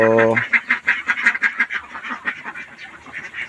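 Domestic ducks raised on a Philippine duck farm quack in a noisy, overlapping flock close by, a brief low tone at the start, then continuous rapid calls with faint talk underneath.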